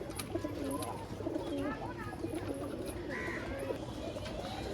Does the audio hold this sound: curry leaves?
no